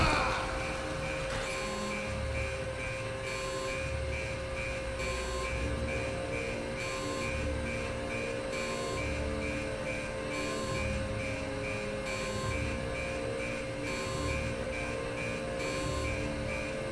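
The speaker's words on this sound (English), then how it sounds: "is this door beeping so loud?" Electronic door beeping in the American Arcadia video game, a steady repeating high tone pulsing over a dense, continuous game soundscape with low rumbling hum, holding at an even level throughout.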